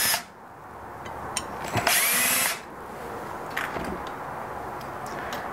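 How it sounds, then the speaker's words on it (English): Power drill backing out Phillips screws from a metal motor plate, a brief whirring burst near the middle with faint clicks and handling noise around it, close by. "We're going to remove the 2 Phillips screws that hold the motor plate to the motor."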